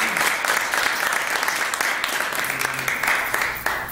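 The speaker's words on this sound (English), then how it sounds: "please give the outstanding volunteers and new elected officials a round of applause" Audience at a swearing-in ceremony and selectmen meeting claps for volunteers and newly elected officials, a steady wash of applause from a modest crowd, fairly even throughout and easing slightly at the end.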